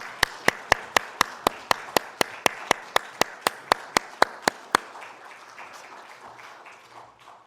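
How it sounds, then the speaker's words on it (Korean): Crowd at a church service claps in unison about seventeen times in a steady rhythm. The beats end suddenly and leave scattered faint applause and room noise. "하나님께 영광의 박수 올려드리겠습니다"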